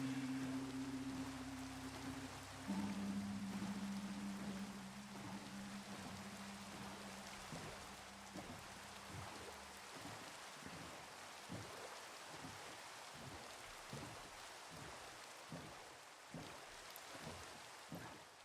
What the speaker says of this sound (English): now we're out here in the rain